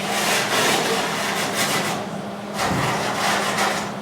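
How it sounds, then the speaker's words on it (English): Wire brush scrubbing over freshly welded metal fabrication parts during cleanup, a steady loud rasping scrub that runs continuously with a brief dip in the middle, no talking. "now that we're all done welding and everything, go through the brush."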